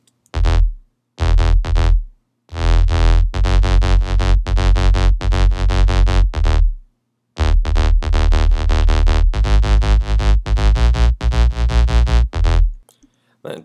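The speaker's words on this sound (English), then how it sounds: "the next sound we have here is my sub bass" Heavy future bass sub bass synth played solo, loud sustained notes in short phrases separated by brief gaps, with a steady repeating pattern and no talking.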